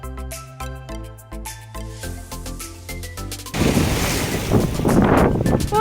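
Sea waves break and spray against the rocky cliffs at Manapad beach, a loud rushing wash of surf that swells in after a few seconds of other sound and stays close, with wind noise.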